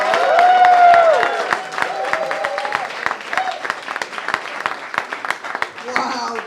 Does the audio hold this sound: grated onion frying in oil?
no